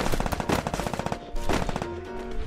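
Rapid gunfire from the Free Fire battle royale game, dense overlapping blasts in two loud bursts with a brief gap between them, harsh and close.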